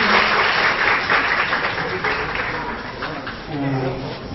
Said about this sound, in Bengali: স্যারকে আমরা হাততালি দিয়ে স্বাগত জানাই